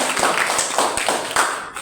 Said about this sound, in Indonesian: Tepuk tangan buat saudara Anton